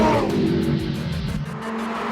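An Audi R8 race car runs fast laps at the Nürburgring 24 Hours, its engine roaring loud and close with a steady, slightly falling pitch.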